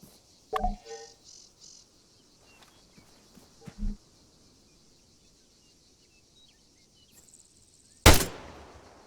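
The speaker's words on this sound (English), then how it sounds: "When you're ready, put some rounds down range" A sergeant in an army training simulation game fires rifle rounds downrange: two sharp, loud shots several seconds apart, with a louder crack near the end, over faint outdoor ambience of insects and birds.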